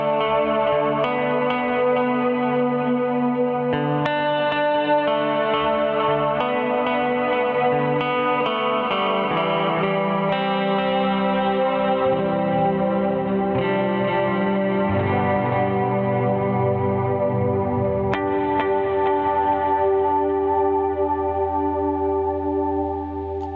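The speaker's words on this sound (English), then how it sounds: "The actual soft focus patch had a built-in delay along with the chorus and the reverb effect." Guitar played through a Catalinbread Soft Focus pedal, with shimmering reverb, delay and chorus washing over sustained chords that shift and overlap continuously, loud and alone.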